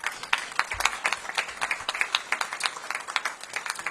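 A crowd claps at an outdoor library ribbon-cutting, dense and lively applause that holds steady for several seconds with no voices over it.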